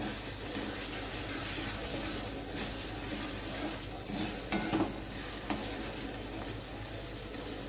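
A spatula stirs soybean chunks and spinach in a frying pan, scraping steadily against the metal over a continuous sizzle, with a few louder knocks near the middle.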